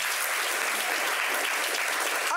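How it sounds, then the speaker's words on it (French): Studio audience applauding at a talk show, a dense, steady wash of clapping that holds loud and even for the whole stretch. "On peut l'applaudir très fort."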